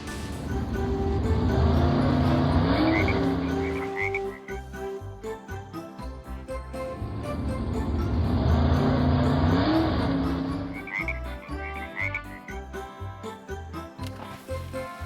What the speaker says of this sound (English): Orange. Race car.